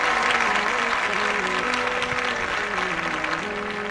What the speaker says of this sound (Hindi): सभी जन जोरदार तालियों के साथ